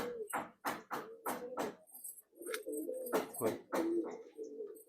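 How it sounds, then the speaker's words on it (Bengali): Madrasi pigeons coo steadily at close range in low, throaty rolling calls, broken by several sharp fluttering bursts that may be wingbeats or movement. "এই পায়রাগুলো খুব সুন্দর জেনারেশনের পায়রা"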